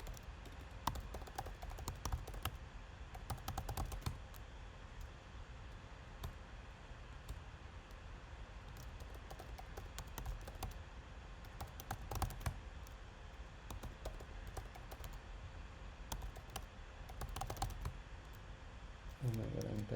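Continuous typing on a computer keyboard, rapid irregular key clicks with occasional louder bursts over a faint background hiss.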